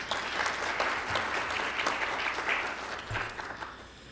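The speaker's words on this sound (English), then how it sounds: "please join me in applauding her application as well" Audience applause at a university presidential awards ceremony for excellence in multiculturalism, a sustained wash of many hands clapping that holds steady for several seconds before easing slightly, with no talking over it.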